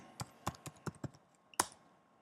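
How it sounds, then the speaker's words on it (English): A URL typed on a computer keyboard: about seven quiet, separate key clicks in an uneven rhythm, ending in one sharper, louder keystroke, close up in a silent room. "And type in the URL."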